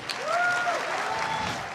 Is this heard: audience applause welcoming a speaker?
yes